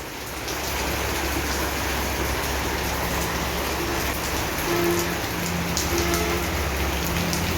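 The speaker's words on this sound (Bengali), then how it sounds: "অল্প অল্প বৃষ্টি নামতে আবার এই জোরে করে বৃষ্টি নামছে" Heavy rain pours down steadily on a village during a power cut, a dense, continuous hiss of drops striking surfaces, loud and unbroken throughout.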